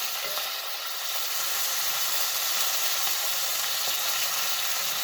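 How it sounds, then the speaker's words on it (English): Food sizzles steadily in hot bacon grease over high heat, a continuous bright frying hiss with faint crackles that holds at an even level throughout, with no talking. "I had it on high because the bacon grease is warming up."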